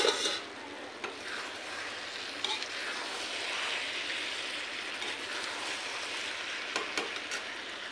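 Curry cooks in a pan with a steady, close hissing sizzle and a soft wash of bubbling, broken by a few faint clicks of stirring, with no talk over it.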